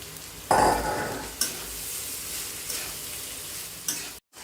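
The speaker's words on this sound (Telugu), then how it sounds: "మనం వండి చల్లార్చుకున్న బాస్మతి రైస్ మిక్స్ చేసుకోవాలి మన రైస్ని మిక్స్ చేసుకోవాలి" Cooked, cooled basmati rice is stirred into paneer fried rice in a hot pan, giving a steady close sizzle with scraping spoon strokes and a few sharper clatters, with no talking.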